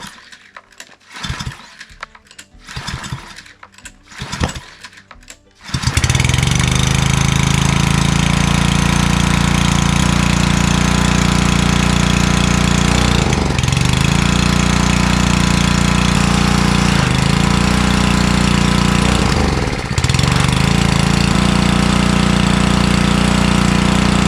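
After a few sharp knocks and pulls, a pressure washer's engine fires up and runs loud and steady, a constant throbbing drone with a couple of brief dips in revs.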